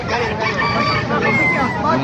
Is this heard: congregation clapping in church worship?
no